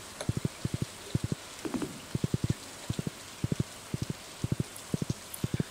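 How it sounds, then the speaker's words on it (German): Horse hoofbeats clop in steady quick groups of three to four while riding home in the farming video game Stardew Valley, moderately loud over a soft hiss with no talking. "Rauf aufs Pferd und ab nach Hause."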